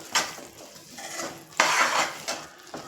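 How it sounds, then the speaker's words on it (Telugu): A spoon scrapes and clanks against a pan in several stirring strokes as sesame seeds are mixed into jaggery syrup over low heat, with a light sizzle underneath. "ఈ పాకంలో నువ్వులు మిక్స్ అవ్వాలి."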